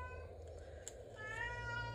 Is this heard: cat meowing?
yes